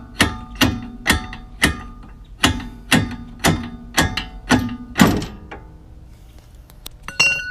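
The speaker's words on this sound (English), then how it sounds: "That's how you guys hammer the fuck out of your fucking shock." Hammer blows on a shock absorber of a Mazda RX-8 during suspension work: about nine sharp metallic strikes at a steady pace, ringing with clanks, then a pause and a couple of lighter clinks near the end.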